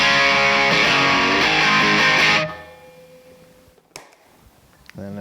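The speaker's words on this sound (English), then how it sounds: "Here's the amp by itself." An electric guitar plays dense distorted chords through a gained-out amp with no phaser, loud and close for a couple of seconds before ringing out into a hissing decay, then a few faint picked notes.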